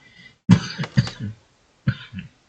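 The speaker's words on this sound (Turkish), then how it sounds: "Bir öksürük tuttu." A few harsh coughs come in two close bursts, the first a quick double cough, followed by another after a short pause.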